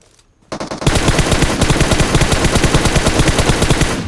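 Rapid automatic gunfire rings out in a battle royale video game, with a sharp opening shot and then a long sustained burst of loud, evenly spaced shots, close and alone.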